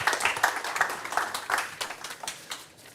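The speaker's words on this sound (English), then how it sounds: "please clap your hands for Antonio, the CEO of the Code10." Conference audience at a tech talks keynote applauds the speaker, a dense burst of many hands clapping that is loud at first and then gradually thins and fades.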